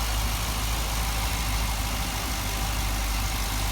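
2014 Camaro SS 1LE with a stock LS3 V8 idling while warming up, a deep, steady rumble held close and loud with no revving or voices.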